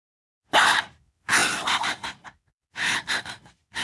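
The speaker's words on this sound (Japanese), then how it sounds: "おかしなしゃっくり出ちゃったじゃん。" Sharp, breathy vocal hiccups from a woman come in short separate bursts with silent gaps between them, loud and close to the microphone, with no other sound around them.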